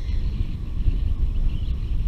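Wind blows outdoors beside the water on a clear day, a continuous low rumbling buffet across the microphone with no other distinct sounds.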